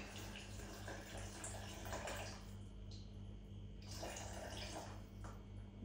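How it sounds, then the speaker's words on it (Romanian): Water poured over a mixture of crushed eggshell, banana peel and coffee grounds, a steady close splashing pour lasting several seconds over a low constant hum. "Peste toate acestea am turnat apă, o să turnăm apă."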